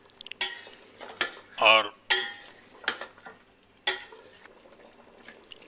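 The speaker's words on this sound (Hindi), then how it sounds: "इसको मिक्स कर देंगे" Spoon stirring turmeric, coriander powder and chilli powder into a pot of turnip mutton curry, giving several scraping, clattering strokes with brief sizzling between them, close by and with no talk over it.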